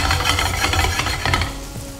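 Garlic and bread frying in a hot pan, a dense steady sizzle with crackling bursts that stays loud throughout and eases slightly near the end, no voices.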